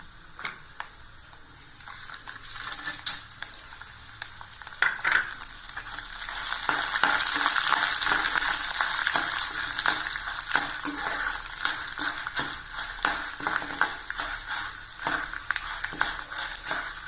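Dried red chilies crackle and sizzle in hot oil for temple-style tamarind rice, a close bright frying hiss that swells midway, scattered with clicks and scrapes of stirring.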